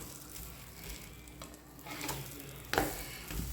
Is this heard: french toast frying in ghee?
yes